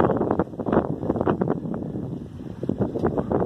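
Wind buffets the microphone on a sailboat leaving the Bay of Salinas after the wind has eased, a close, gusty rumble with fluttering bursts throughout and no talk.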